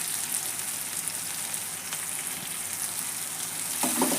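Turmeric, chilli powder and garam masala frying in oil for a green peas palya: a steady, dense sizzle fills the whole stretch, with a brief stirring scrape near the end, no voices.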